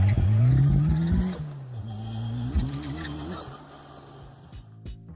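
A 300 bhp EcoBoost-swapped Caterham sports car launches hard, its engine note climbing steeply through a gear change, then fading away into the distance.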